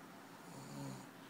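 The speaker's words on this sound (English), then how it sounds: "So I have that going, him snoring, and I have the fan on." A man snoring in a quiet bedroom with a fan running, one faint, low rasping breath heard under steady fan hiss.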